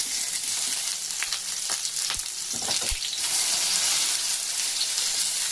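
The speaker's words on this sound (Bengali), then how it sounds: "একটা পিঠ হয়ে গেছে, এইভাবে এরকম করে ভেজে নিতে হবে।" Eggplant pieces fry in a hot pan with a steady, close sizzle, broken by a few sharp scrapes and taps as the pieces are stirred and turned.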